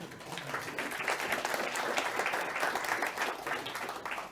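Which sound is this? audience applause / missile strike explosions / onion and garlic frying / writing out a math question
audience applause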